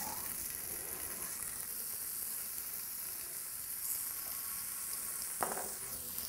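Bacon and asparagus sizzle steadily on a hot Japanese teppan griddle, a constant close frying hiss with a brief clatter near the end and no talking.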